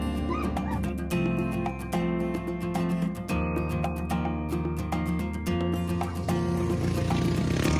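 A dog barks repeatedly in sharp bursts at passing racers at a desert race checkpoint, close by, with a constant droning hum underneath.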